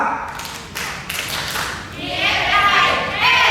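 Trainees in groups at a food-sanitation course clap together in a rhythmic pattern, sharp bursts of hand claps giving way to a noisier swell of clapping and voices.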